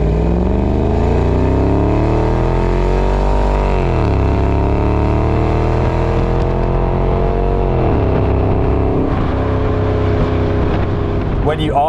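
The supercharged 5.0 Jaguar XKR X150 engine is heard from inside the cabin, loud and smooth, its pitch rising and falling through revs and gear changes, with a slight mechanical whine on top.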